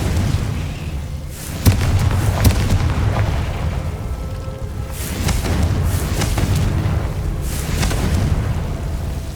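Confringo fire spells explode in the Hogwarts Legacy video game, with several booming blasts and sharp pops over a dense, continuous rumble of game noise.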